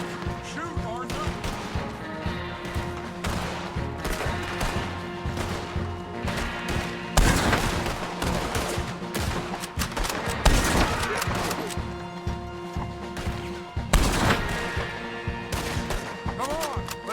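Gunfire in Red Dead Redemption 2: a dense firefight of repeated shots and cracking bursts, with heavier blasts, mixed with game music and characters talking throughout.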